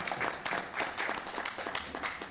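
Audience applause at a city council meeting, a short, steady patter of many hands clapping throughout, moderately loud in a room.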